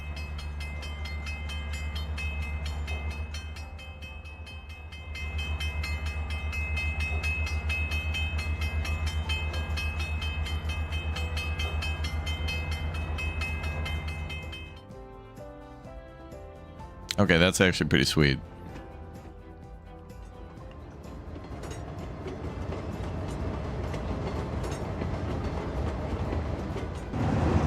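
A train runs along a railway line in a modern city builder game, giving a sustained droning rumble with tonal horn-like whines and a short burst of noise partway through, as someone comments over it.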